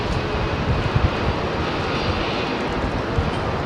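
A heavy jet departs runway 27R at London Heathrow, its broad engine roar steady and strong, with faint low thumps pulsing under the sustained noise.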